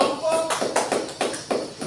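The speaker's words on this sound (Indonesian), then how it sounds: "Tepuk tangan untuk kelompok" A classroom of students claps together for a group, producing a short run of evenly spaced, sharp clapping bursts with a faint voice underneath.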